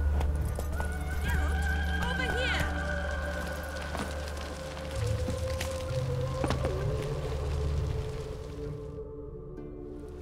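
Roach, a horse in a video game, neighs and whinnies while her hooves clip-clop steadily beneath, close and clear amid a busy game soundscape, with a voice also present.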